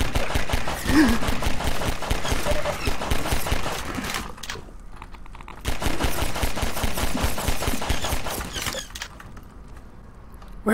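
Automated turret in Half-Life firing rapid machine-gun bursts in a dark area, loud dense rattling in long volleys broken by short pauses, with faint mechanical creaks between them.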